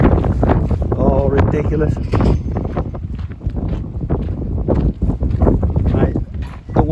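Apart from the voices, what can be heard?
wind noise on the microphone on a stormy day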